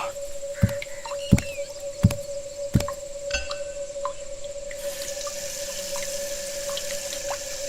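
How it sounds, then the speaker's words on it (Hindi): A man washes his face with water at a post office: a few sharp drips and knocks come first, then a stretch of soft splashing and running water, with a thin steady tone throughout. "उसने अपना चेहरा धोया"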